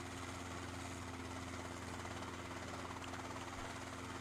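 A helicopter engine in the video game DayZ drones at low volume, a steady whirring hum with a constant low pitch that holds unchanged throughout.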